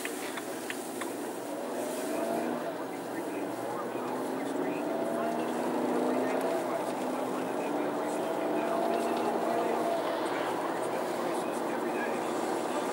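A 2008 BMW 328i accelerates smoothly through its gears, its engine drone steady and close for about thirteen seconds with road noise underneath; someone speaks over it.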